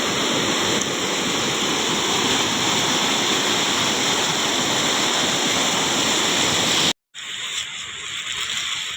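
Flooded river after heavy monsoon rain in a Konkan village, rushing water roaring as a loud, steady broadband wash that cuts out abruptly near the end, then resumes slightly thinner.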